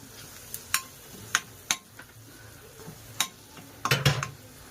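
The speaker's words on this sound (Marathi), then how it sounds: "धना जिरा पावडर, थोडंसं तिखट, लाल तिखट। चांगलं परतवून घेऊ।" Coriander-cumin powder and red chili powder stirred in a pan for dal khichdi: a spoon scrapes and clinks against the pan in sharp, scattered strikes over a quiet background, ending in a short cluster of busier scraping.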